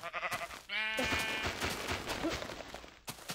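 A sheep bleats loudly once in Minecraft, a wavering nasal cry following a few short clicky game noises, then rustling gameplay sounds continue afterward.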